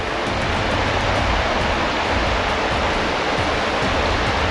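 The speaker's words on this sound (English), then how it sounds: "And the river here, the Hurt River." The Hurt River flows by an old railway bridge, a constant broadband rush of water, loud and near, with no voices.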